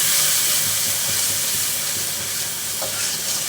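Ground spices with dried chilli powder, turmeric and salt sizzle steadily in hot oil in a pan for a Bengali rohu fish curry with taro, a close, even frying hiss with faint stirring.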